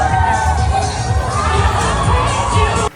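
A dense New Year's Eve crowd at Times Square roars continuously, with shouting and cheering voices blending into a loud, unbroken wash of noise close around.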